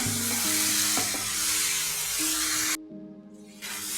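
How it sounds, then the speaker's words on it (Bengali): Chili powder, cumin powder and turmeric spice paste fry in oil for potoler dorma, making a strong continuous sizzle with faint stirring. It cuts out abruptly for a moment near the end, then resumes, with no talk. "আর সামান্য আধা চামচের মতন জিরে গুঁড়া দিয়ে আমি মশলাটা একটু কষিয়ে নিই"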